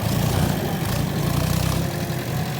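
A John Deere 5045 tractor engine idles steadily and close by, a continuous low diesel rumble with constant vibration and no pauses or revving.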